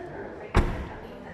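A Toyota Vios GR-S car door, 2021 model, swings shut with a single solid thud, close by, followed by a short fading resonance against quiet background hiss.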